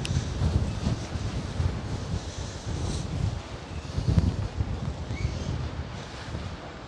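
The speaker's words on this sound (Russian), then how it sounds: "Вот это ветер разыгрался." Strong wind gusting at the Balaklava coast in Crimea, a steady loud roar with heavy buffeting on the microphone and no talking.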